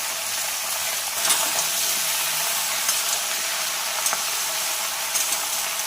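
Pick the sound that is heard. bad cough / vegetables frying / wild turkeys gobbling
vegetables frying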